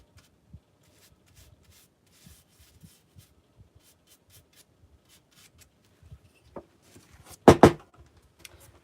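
A transfer design is rubbed onto a wooden sign by hand with faint, scattered scratchy strokes, followed by a couple of louder, closer rubbing scrapes near the end.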